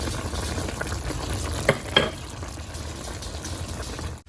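Frying chicken mechado sizzling in a pan as tomato sauce goes in, a steady close crackle with a couple of sharp stirring clinks, no talk.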